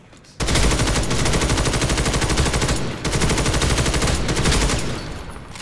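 Sustained automatic gunfire in the shooter game First Assault, fired from a prone bipod position: loud, dense rapid bursts with a short break near the middle, close and continuous.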